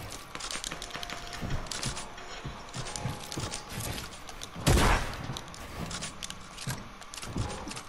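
Video game gunfire rattles out in rapid bursts of sharp shots with one louder blast in the middle, fairly quiet overall, as a player shoots an opponent.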